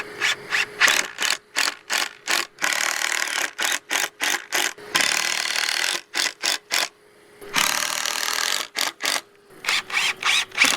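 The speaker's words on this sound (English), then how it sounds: "I'm gonna grab a clamp, let the clamp do the hard work." Ratcheting clamp being tightened to push a part through a hole during an RV solar install, with repeated short bursts of clicking ratchet strokes in an uneven rhythm broken by brief pauses.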